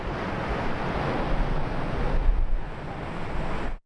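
Ocean surf rolls steadily onto the beach at Rehoboth Beach below the dunes, a broad continuous wash with gusty wind noise buffeting the microphone.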